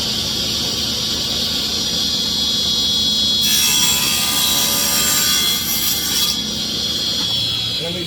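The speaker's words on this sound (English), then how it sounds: "that blade is going to come and it's going to cut up 1 inch in the middle of that frame" A saw blade cuts a one-inch spline slot into the corner of a wooden picture frame, a loud whining rip of several seconds rising over a steady motor hum and then easing off.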